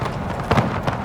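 Cavalry horses gallop in a Napoleon: Total War battle, a steady drumming of hooves with two louder bursts of charging impact about halfway through.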